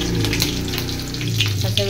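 Green chillies sizzle and crackle in hot oil with mustard seeds and cumin, a loud, steady frying hiss with sharp pops, close up and with no talking.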